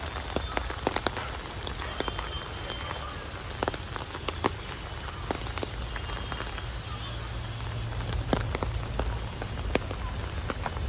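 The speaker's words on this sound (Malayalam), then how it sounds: "ഇവിടെ എത്തിയപ്പോഴേക്കും നല്ല മഴ പെയ്തു." Heavy rain falling on Lalbagh garden among trees and plants, a steady close patter with sharp individual drops striking surfaces, continuous and fairly loud throughout.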